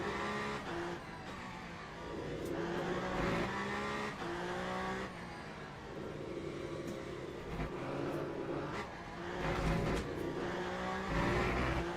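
Race car in the video game Le Mans Ultimate at Circuit of the Americas, engine howling steadily near with pitch shifts through gear changes and bursts of tire squeal as the car slides around corners.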